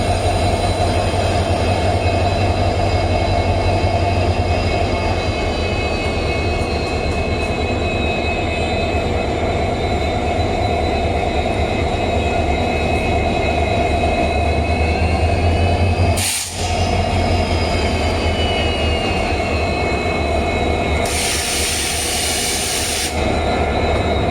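A Hubli-shed WDG4 diesel locomotive hauls a weekly express, its steady engine drone and rolling wagon rumble continuous and loud throughout, with a brief gap midway and a burst of high hiss near the end.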